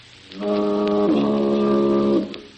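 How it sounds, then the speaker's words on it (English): A deep, sustained foghorn blast holding a low tone for about two seconds with a slight pitch shift midway, close and loud. "That's like the Lifebuoy foghorn"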